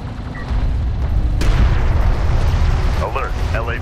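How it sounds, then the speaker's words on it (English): Combat in the real-time strategy game Homeworld: Deserts of Kharak, with loud rumbling explosions and weapon fire against strike craft and armored vehicles, a sharp blast near the middle and radio-style unit chatter and beeps layered over it. "Strike craft taking effective fire."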